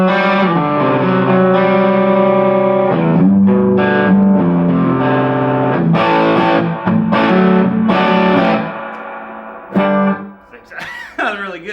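An electric guitar played through a distortion effect in a Nashville guitar shop rings out in loud, sustained, heavily overdriven chords and riffs, then trails off into a few quieter, sparser notes.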